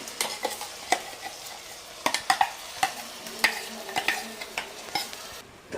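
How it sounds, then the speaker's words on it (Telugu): Prepared gravy stirred into onions frying in ghee for kuska biryani, a soft steady sizzle punctuated by sharp scraping and tapping of a spoon against the pan at an uneven rhythm. "ఇప్పుడు మనం ముందుగా రెడీ చేసి పెట్టుకున్న ఈ ఏమైతే గ్రేవీ ఉందో దాన్ని కూడా ఇందులో వేసేస్తుంది"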